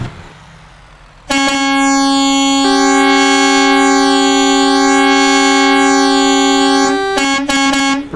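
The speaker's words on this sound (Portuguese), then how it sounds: "é agora aquela hora de buzinar, acelerar, dar tchau" Loud truck air horn blasts from an International LoneStar in American Truck Simulator, a long sustained honk after a quieter start, then several short toots near the end.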